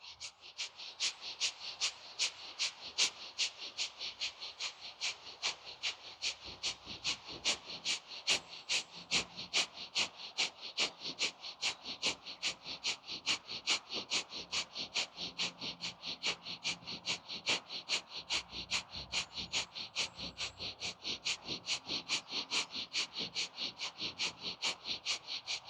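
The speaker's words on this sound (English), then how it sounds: "we will begin with that breath of fire again" Breath of fire yoga breathing through the nose: quick, equal, rhythmic sniffing pulses, steady and close, repeating nonstop for the whole stretch with no talking.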